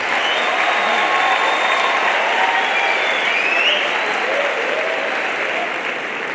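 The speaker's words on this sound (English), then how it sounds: "give them a standing ovation and a roarous round of applause" A crowd gives a standing ovation at a matric results speech, a loud, full and continuous round of clapping that holds at an even level from start to finish, with no talk over it.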